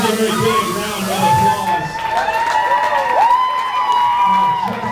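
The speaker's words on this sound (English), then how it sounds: "Let's give her a big round of" Audience at a Disney World show cheers and claps, crowd noise with whoops and shouts holding steady for several seconds, while a presenter's voice carries over it.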